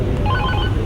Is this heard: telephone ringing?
yes